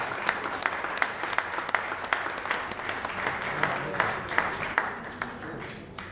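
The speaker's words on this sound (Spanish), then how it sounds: "Fuerte aplauso para ella." Applause from the audience at a Spanish-language book presentation for a writers' circle anthology, steady dense clapping with sharper individual claps standing out across the whole stretch, fairly loud and sustained without anyone speaking.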